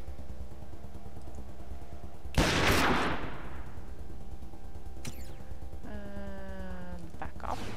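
A rifle in a video game cracks once with a loud, close shot that rings out and fades over a steady background music bed, followed by fainter mechanical clicks and a brief tonal sweep.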